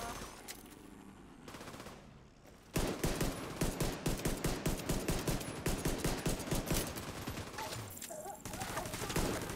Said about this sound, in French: vu que je tire au pistolet